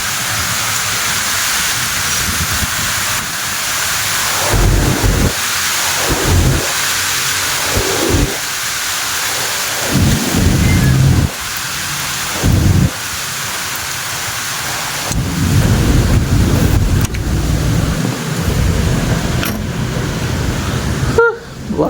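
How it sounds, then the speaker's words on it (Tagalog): Typhoon Uwan storm roaring outside: heavy rain and gusting wind surge and ease in waves, with low rumbles of thunder throughout and no talk. "Hangin."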